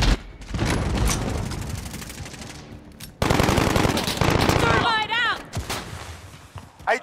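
Rapid automatic gunfire and heavy shots in the Call of Duty Modern Warfare (2019) video game, loud and sustained in long bursts, with in-game voices talking over the shooting.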